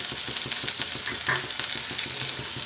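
Round-cut green chilli pieces and thin ginger slivers crisping in hot oil for a ragi flour upma mix, a close, bright sizzle with quick rhythmic crackles and stirring throughout.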